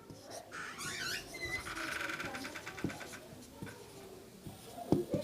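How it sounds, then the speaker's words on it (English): Chalk writing on a classroom board, short scratchy strokes and taps in quick sequence, fairly close, with some faint background noise. "I would like to write it on the board."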